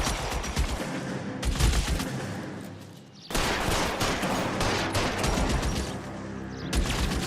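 Enemy gunfire in the video game LA Noire rattles in dense, loud, continuous bursts, pausing briefly before more sustained shooting resumes.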